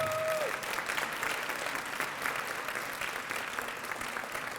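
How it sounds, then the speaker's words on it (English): Applause from the audience at a youth council graduation and scholarship ceremony, honoring Reverend Gail Addison, with steady, moderately quiet clapping from a crowd and a brief tone at the start. "Please give her a big round of applause."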